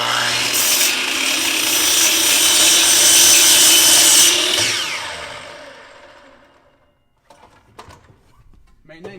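A mitre saw set to a 22.5-degree angle cuts through a wooden rafter, a loud whining rasp lasting several seconds before spinning down, followed by quiet clatter and a brief voice.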